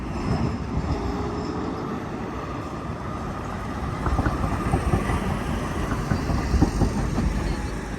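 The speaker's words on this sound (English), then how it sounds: "Westbound Metra" Westbound Metra commuter train at LaGrange station in Illinois, a steady low rumbling roll with faint rhythmic clatter of wheels, moderately near and continuous, growing slightly louder toward the end.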